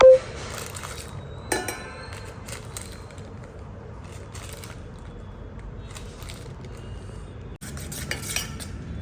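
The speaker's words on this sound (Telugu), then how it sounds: "బటర్ని బాగా స్మాష్ చేసేసుకొని తర్వాత షుగర్ పౌడర్ యాడ్ చేస్తున్నాను" Butter is mashed and powdered sugar mixed into it in a cookware pot for cookies, with soft scraping and stirring strokes, a few sharper clinks of the utensil against the metal, and quiet gaps between the motions.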